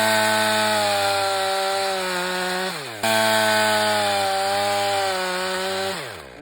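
A chainsaw bores into a tree trunk during winter felling, cutting a triple hinge. It runs loud and close at steady high revs in two long bursts, each ending as the engine winds down.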